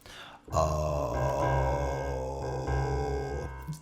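A low sustained sung note, around a C, with a rough, creaky vocal fry texture beneath it, steady for about three seconds before fading out.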